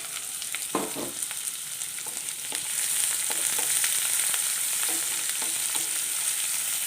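Sliced onions frying in a pan for jackfruit thoran, a steady close sizzle with a few scattered stirring taps, loud and continuous without any voices.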